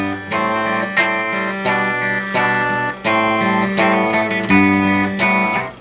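Acoustic guitar fingerpicked alone, a steady pattern of plucked notes over repeating bass strings, clear and close with a bright ringing tone and no voices.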